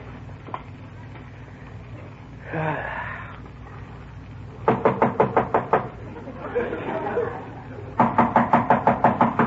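Knocking on a door in an old radio comedy, sounding as two bursts of rapid, evenly spaced raps. Voices talk briefly between the bursts.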